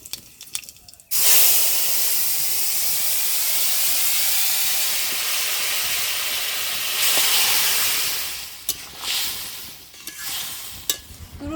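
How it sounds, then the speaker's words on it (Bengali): Whole cumin seeds hit hot mustard oil in a kadai, bursting into a loud, close, steady sizzle that holds for several seconds, then softens into sputtering crackles and a few utensil clinks. "গরম তেলের মধ্যে একটু গোটা জিরে দিয়ে দিচ্ছি"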